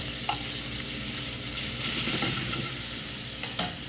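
Shrimp sizzle in a hot oiled pan with ginger and soy, a steady loud frying hiss with occasional stirring scrapes, heard up close without talk.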